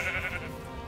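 A single short bleat from a sheep in the Minecraft video game, fairly faint and heard alone without talk.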